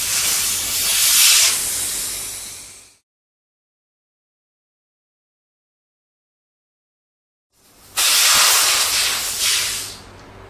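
Valve cores are pulled from tire valves during a TUBLISS Gen 2 tubeless install, and air escapes in two loud, close hissing bursts, each about three seconds long, separated by total silence.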